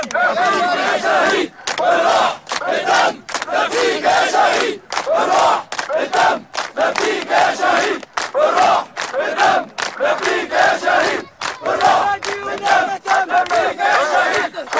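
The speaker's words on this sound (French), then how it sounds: "Malgré les risques, la foule est venue nombreuse honorer la dépouille de Fadi Qassem" A large crowd at a soldier's funeral in Syria chants and shouts together in loud, rhythmic bursts with brief pauses between them, sustained and close throughout.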